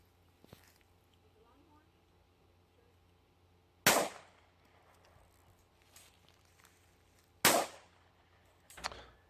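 Gunshots from a gun being fired at a jug outdoors: three or four sharp, loud cracks spaced a few seconds apart, separated by near-silence with faint background noise.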